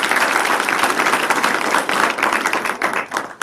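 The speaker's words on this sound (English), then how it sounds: "A big round of applause for everyone being here." A round of applause from the audience at an executive business forum: many hands clapping steadily and densely throughout, moderately loud, fading slightly toward the end.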